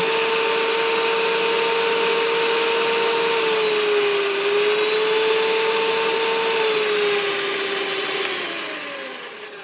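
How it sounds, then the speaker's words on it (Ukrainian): A VITEK VT-1405 200 W hand mixer whirs steadily in turbo mode, a loud continuous motor whine with a high tonal hum that dips slightly in pitch midway and winds down near the end, with no talking. "Ага, треба включити, мабуть, спочатку на якусь швидкість. О, турборежим."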